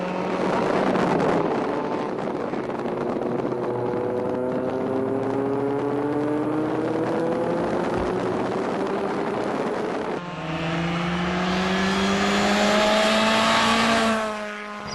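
A stiff, track-modified Mercedes S600 driven hard on a circuit, its engine note climbing steadily through long rising pulls, loud and close with wind rush, a brief gear change and then another strong climb.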